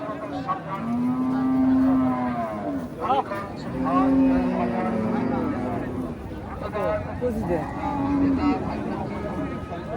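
Holstein Friesian cattle moo repeatedly at a busy cattle market, several long, loud lowing calls rising over nearby voices and general crowd chatter.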